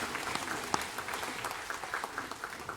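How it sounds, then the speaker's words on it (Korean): A church congregation claps steadily throughout, a dense, even wash of applause from many hands at moderate distance, with no talking over it. "박수도 하나님께 드리겠습니다."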